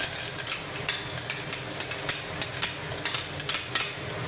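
Ginger, garlic and curry leaves hit hot oil in a pan and sizzle with a steady crackle, broken by sharp spatters and the clink of a stirring spoon against the vessel.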